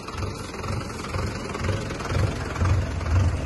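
Tractor running in a farm field during spraying work, a loud close engine chug with a rhythmic low-end pulse about every half second, steady throughout and without voices.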